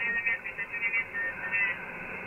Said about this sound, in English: Now, as you can hear, we have that interference going on.